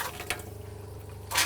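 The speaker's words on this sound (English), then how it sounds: "And then we're going to let the hot run." Hot water runs in a steady stream from a faucet inside a Winnebago Travato camper van being de-winterized, a soft continuous splashing with a brief louder gush at the end.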